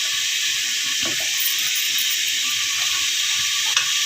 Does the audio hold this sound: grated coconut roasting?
yes